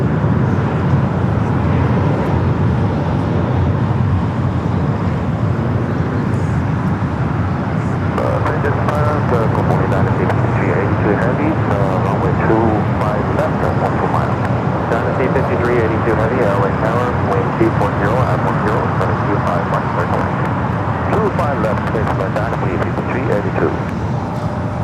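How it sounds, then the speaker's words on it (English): United Boeing 787-9 Dreamliner arriving at LAX from Tokyo Narita, heard as a continuous broad jet roar with wind noise, loud throughout while someone talks over it. "United Flight 33 coming up from Tokyo Narita, 787-9 Dreamliner"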